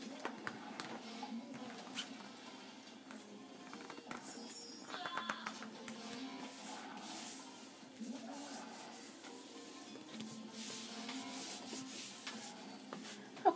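Brush strokes spread and smooth an even coat of liquid across a magnet board, a soft, continuous close-up rubbing with a slightly rough texture, fairly quiet with small bumps and a faint tap near the end.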